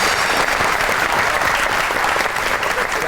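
A studio audience on a comedy talk show applauds a guest with dense, sustained clapping that stays loud and even throughout, with no voices over it.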